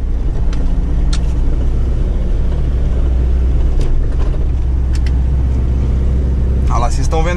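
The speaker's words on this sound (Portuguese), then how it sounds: "Nossa, pessoal, olha como tá fraquinho esse caminhão" A VW 8160 truck's weak engine labours with a steady low rumble as it drives, heard from close by, with a brief voice near the end.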